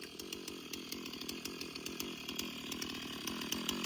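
A chainsaw cuts through a piece of firewood outdoors, its engine a steady, loud, rapid buzz that holds without pause for the whole stretch, with no voices.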